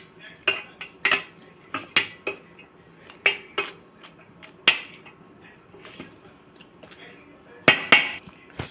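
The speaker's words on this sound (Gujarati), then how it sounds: "હવે આપણે મિક્સ કરી લઈશું રાઈસને।" A spoon stirs jeera rice in a pot after the tempering is poured over it. Loud metallic clinks and scrapes come in irregular bursts, close up, with quiet gaps between them.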